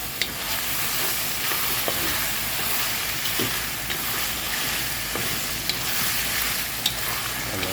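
Duck adobo simmering in coconut milk in a pot is stirred, giving a steady, close sizzle and bubbling hiss with faint scraping clinks from the spoon throughout.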